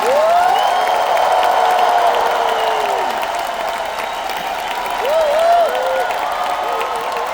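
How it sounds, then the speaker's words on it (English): A crowd at a motivational event claps steadily and loudly throughout, mixed with shouts and cheering voices that swell now and then. "Clap your hands and shout."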